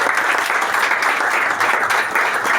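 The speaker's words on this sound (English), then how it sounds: "Can we all give him a round of applause?" Dense, steady applause from a large audience at a computer lab inauguration in Lagos, continuous clapping filling the hall without pause.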